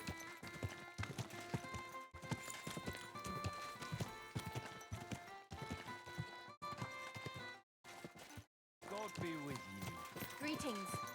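Horse hooves clip-clop steadily in the PC game Kingdom Come: Deliverance 2, a close, rhythmic trot mixed under background music and brief pauses in the game audio.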